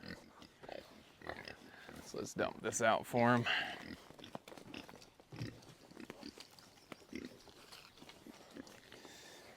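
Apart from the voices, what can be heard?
pigs grunting by the water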